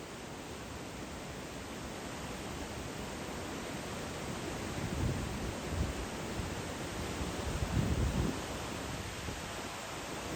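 Floodwater rushes under the Moosarambagh bridge in Hyderabad as a constant broadband roar heard from mid-bridge, with low rumbling surges swelling a little in the middle and no voices.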